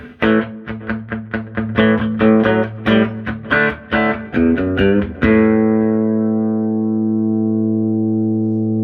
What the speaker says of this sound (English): There's a little bit of reverb and delay in the front of both these amps.